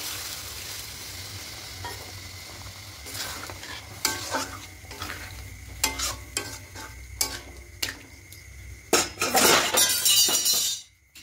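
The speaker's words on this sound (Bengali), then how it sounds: "খুব ভালো করে কষিয়ে নিচ্ছি, দেখুন মশলাটা একদম শুকনো হয়ে এসেছে" Spice paste being stir-fried until dry in a pan for a vegetarian malai potol dish, with a constant sizzle and repeated loud scraping and clanking spatula strokes that grow busier toward the end, with no voices.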